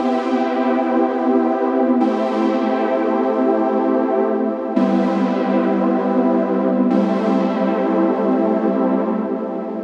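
A synth sequence in Logic Pro with fixed velocities plays dreamy, muted sustained chords that change every couple of seconds, each with a soft attack and a long ringing tail, alone and steady in level.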